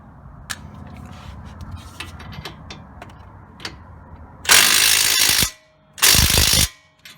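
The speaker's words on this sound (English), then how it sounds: "Now I'm gonna go ahead and hit it with the impact gun." Impact gun tightening a front strut bolt on a 2006 Toyota Avalon XLS, after light ratchet clicks; two loud sustained hammering bursts, the first about a second and a half long, then a brief pause and a shorter second burst, close up.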